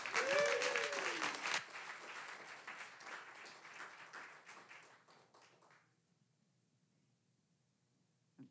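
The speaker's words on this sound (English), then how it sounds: "Let's get a round of applause." Audience at a storytelling slam event applauding, loud dense clapping with a few whoops at first that gradually thins and fades out to near silence.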